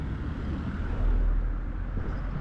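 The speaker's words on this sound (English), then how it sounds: "Let this car pass." A car drives past on a city street at night in Centro Tabasco, Mexico, its steady low rumble swelling slightly midway and then easing, with no talk over it.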